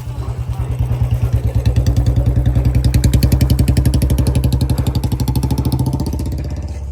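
A motorcycle engine thumps in rapid regular firing pulses, loud and close, swelling then easing slightly as it passes, with no clear talk over it.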